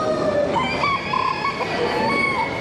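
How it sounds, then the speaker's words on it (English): A huge Brahma rooster crows at a poultry exhibition in Bucharest, with a loud, drawn-out call that rises and wavers over a steady hum of crowd noise from the hall. "the king of the chickens, huge Rooster, Brahma"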